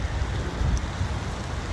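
Steady outdoor rainfall on concrete and grass makes a soft, constant hiss with a low rumbling undertone, with no single drops standing out.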